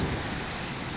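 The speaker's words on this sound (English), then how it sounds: "It's hailing right now" Hail pours down in a storm, a dense, loud, even rush of pelting noise with no gaps across one second.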